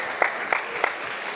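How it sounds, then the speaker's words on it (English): A short burst of audience applause for festival members at a MinnPost event, a soft wash of clapping with a few distinct claps standing out, brief and moderately loud. "Applaud for members."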